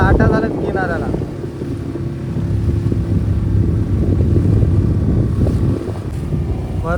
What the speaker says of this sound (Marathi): पूर्ण लाटा झाल्यात किनाऱ्याला